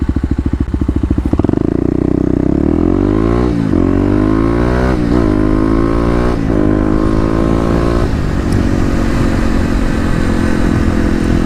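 Kawasaki KLX250 dual-sport motorcycle accelerating hard on a highway, its single-cylinder engine revving up through several gear shifts with rising pitch, loud and close with steady wind noise.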